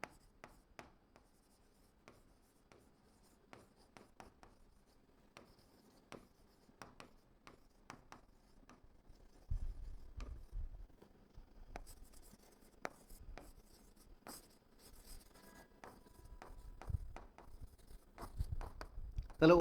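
Pen writing on paper while a maths problem is worked, a soft scratching in short strokes and taps, close and quiet, with a voice speaking at times.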